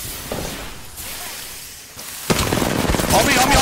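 Enemy gunfire in a shooter video game: a dense burst of shots and booms erupts partway through, loud and close after a quieter stretch.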